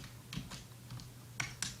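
Short run of keystrokes on a computer keyboard during Blender Game Engine work, a handful of quiet, close clicks in two small clusters with a brief pause between them, no speech.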